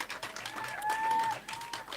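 Audience applause at a youth leadership summit, scattered clapping from a crowd heard at moderate level alongside a sustained tonal whistle or feedback note, no one talking.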